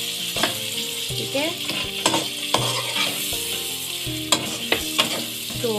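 Beef pulao masala with green chilies frying and being stirred in a pot over a high flame, a steady loud sizzle with repeated scraping and clanking of a spoon against the pot, and a brief spoken remark.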